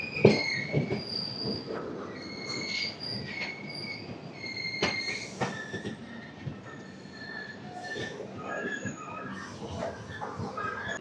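The Golconda Express, train 17201 from Guntur to Secunderabad, pulls into Nambur station. Wheels squeal sharply and repeatedly, and cars clank and rumble close by as it slows.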